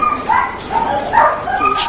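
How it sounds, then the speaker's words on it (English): Greyhounds at a race meeting in England give short yips and whimpering barks, several quick calls close by over a steady murmur of background noise. "These dogs are greyhounds"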